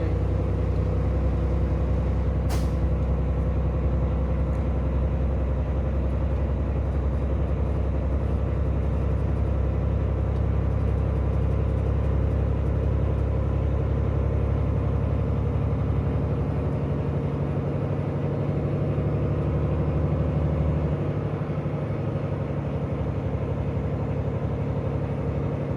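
A semi truck grinds up a highway climb on a snowy road in a snowstorm, its engine a heavy, steady low rumble heard from the cab, long and continuous with a brief click early on.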